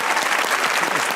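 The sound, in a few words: audience applause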